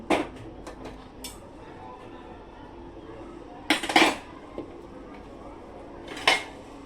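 Dishes and pans being washed and scrubbed in a home kitchen, with clattering knocks and scraping, a few louder clanks bunching near the middle and end, moderately close and with no talk over it.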